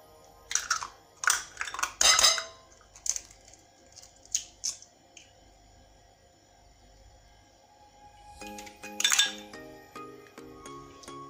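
Eggs cracked and separated into bowls while baking a white chocolate magic cake, with a run of sharp clinks and taps of shell on bowl rims, brief pauses, then a closer cluster of clicking clatter near the end.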